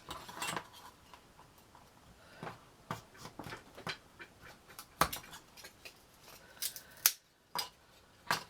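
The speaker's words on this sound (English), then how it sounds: "this is the hardest bit when you're cutting against the grain." Material for a miniature garden shop model being cut against the grain, a series of sharp, close snips and clicks at an irregular pace with quiet gaps between them.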